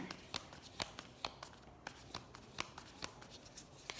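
Tarot cards being shuffled by hand, with a quiet, close run of riffling card flutters and about a dozen sharp slaps and taps of the deck at an uneven rhythm.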